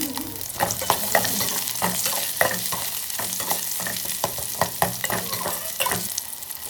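Shallots, garlic and onion stir-fry in hot oil for Thai-style beef khao mok: a steady close sizzle broken by frequent rhythmic scrapes and clacks of the spatula against the pan, with no talking.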